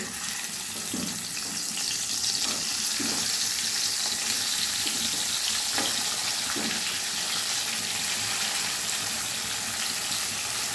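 Pabda fish rubbed with salt and turmeric are added to hot oil in a wok. A loud, continuous hissing sizzle fills the whole stretch, with a few soft thuds and splutters as pieces go in, and no voices.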